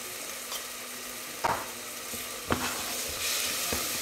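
Tomato paste frying in a pot over lowered heat for chorba, stirred with a utensil: a steady soft sizzle broken by three distinct scraping strokes, close and moderately loud, with no voices.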